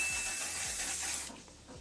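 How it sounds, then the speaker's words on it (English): A close, breathy hiss of a face mist spray being pumped for about a second, followed by quieter faint rustling. "I'm gonna spray the heck out of my face."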